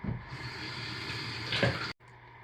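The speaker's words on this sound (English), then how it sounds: "Rinse the container." Tap water runs steadily into a container being rinsed after lye water is poured into oils during soap making, a broad continuous gush with a brief splashy surge before it abruptly cuts off.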